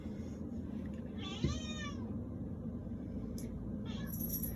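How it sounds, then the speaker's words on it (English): A domestic cat indoors lets out one clear, drawn-out meow close by, with a couple of faint short chirps later over a low room hum. "Sorry, my cat is joining us."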